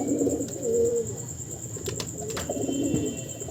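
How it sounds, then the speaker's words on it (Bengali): Pigeons coo in low, throaty repeated phrases close by, with a few chirps and faint wing sounds over steady background noise. "এই হচ্ছে পায়রা"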